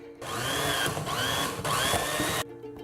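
Electric mixer beating whipped cream with powdered sugar and coffee grounds, a steady loud motor whine with shifting pitch for about two seconds before cutting off abruptly, close and alone.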